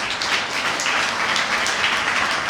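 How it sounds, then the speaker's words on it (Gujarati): An audience at a library's Vacation Vachnotsav opening ceremony honours Gauri Shardul with loud, steady applause, many hands clapping together throughout with no talk. "દીકરી ગૌરી શાર્દુલ માટે ખૂબ ખૂબ તાળીઓ."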